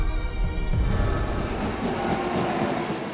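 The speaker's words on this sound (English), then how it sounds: "To get there, it's 2 hours by bullet train." A Japanese bullet train rumbles past with a loud, steady rush and low rolling rail noise throughout, heard close and without voices.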